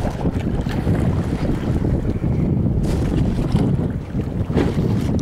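Wind rushes steadily and loudly over the microphone aboard a sailboat, with water and hull noise beneath, continuous and without talk.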